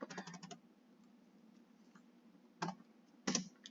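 Python code goes into a computer keyboard as a quick burst of soft clicks, then a long quiet gap, then two short separate clusters of keystrokes, all close and fairly faint.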